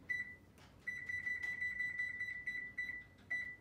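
A kitchen oven timer beeping while cheddar biscuits bake: a steady high electronic beep repeating rapidly in bursts, with short pauses between runs, fairly close over quiet room noise.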